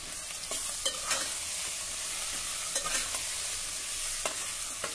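Potato, pea, cauliflower and carrot pieces sauté for masala rice, giving a steady soft sizzle with faint stirring scrapes throughout and no voices.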